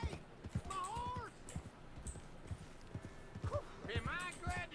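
Horse hooves clip-clopping in Red Dead Redemption 2, a steady rhythmic trot under a man's speech, with horse snorts and other game sounds.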